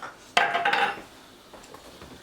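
Containers clatter and knock together as a fridge is cleared out, a short burst of hard tapping and rattling up close, then quieter shuffling handling sounds.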